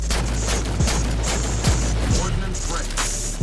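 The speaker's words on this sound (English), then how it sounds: "I hear gunfire coming up from up top" Gunfire sounds in a first-person shooter video game: a string of sharp, distant-sounding shots and bursts over a steady low hum, evenly spread across a few seconds.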